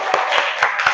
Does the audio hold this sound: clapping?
yes